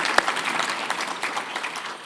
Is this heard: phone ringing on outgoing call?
no